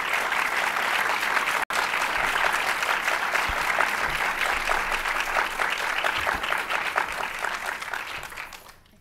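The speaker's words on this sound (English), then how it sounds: "I was going to go for a round of applause before questions" An audience applauds panelists at a panel discussion, sustained dense clapping at fairly loud level, holding steady before fading out near the end.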